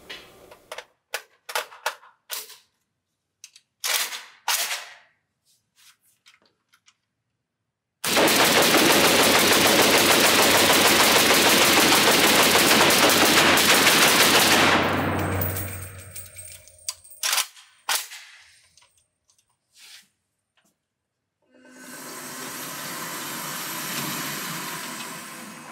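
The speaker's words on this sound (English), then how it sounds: "we're just going to go ahead and shoot this gun suppressed and do a mag dump with it" Suppressed Norinco Type 86S AK bullpup rifle firing: scattered single shots, then a sustained seven-second rapid magazine dump, followed by more sporadic shots and handling noise, loud and close.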